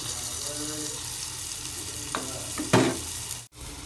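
Chopped onion goes into melted butter in a glass pot over medium heat, a soft steady sizzle with a few louder crackling bursts and a brief clatter near the end, close and without talk.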